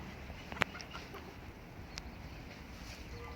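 Faint clucking from chickens and soft peeping chicks in a quiet outdoor setting, with one brief sharp call standing out.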